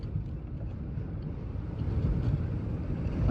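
Strong wind in Kansas roars as low, rumbling gusts buffeting the microphone, steady and close, swelling slightly louder toward the end.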